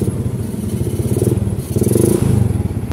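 Motorcycle engine cranking and catching, a loud close rumbling pulse that surges, dips briefly, then runs again in steady chugging bursts.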